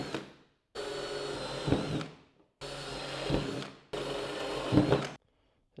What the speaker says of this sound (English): I'm going to go ahead and drill a few holes in this insert.